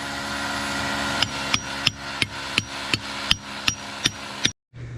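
A hammer strikes rebar being driven into a concrete block wall, about eleven evenly spaced, ringing metallic blows over a steady background hum that cuts off abruptly at the end.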